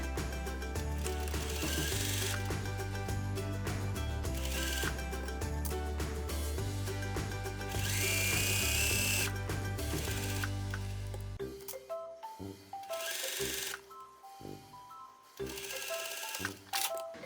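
A sewing machine stitches a shirt collar in a steady, continuous run for about eleven seconds, mixed with background music, then breaks into shorter intermittent bursts.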